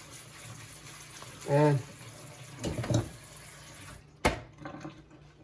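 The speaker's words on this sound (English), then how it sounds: "I'm just going to rinse it off, only because I'm not eating it right away." Wonton noodles rinsed under a running kitchen faucet, a brief rush of water with clatter from handling, followed by a sharp knock, a voice briefly heard.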